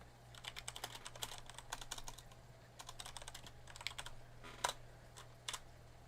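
Computer keyboard clicking in quick, irregular bursts of typing, faint and close, with no voices.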